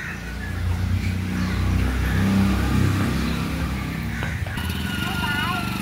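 A motorbike engine in a village starts and revs up close, the rumble rising and holding steady before a brief drop, with a voice speaking over it.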